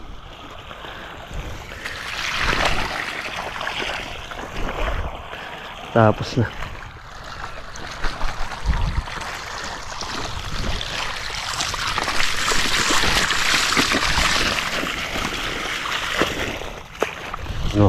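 A power sprayer with leaky hoses sprays water in a steady, broad hiss that runs through the whole stretch. Someone talks intermittently over it, and there are a few sharper knocks and clatters.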